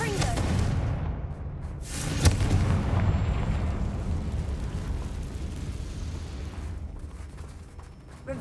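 Confringo spell explosion in Hogwarts Legacy: a sharp blast bursting out near the middle, followed by a rumbling roar and debris amid game combat noise, with a voice speaking around it.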